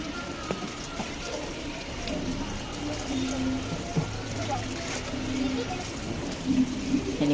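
Water is poured for pigs to drink at a farm pen holding piglets and a sow, a steady splashing and trickling stream heard close over a busy, noisy background.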